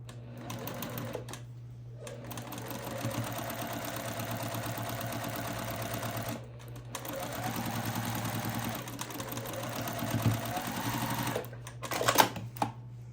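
A sewing machine stitching curved quilt block pieces runs in steady close bursts, its even mechanical whir pausing briefly between seams.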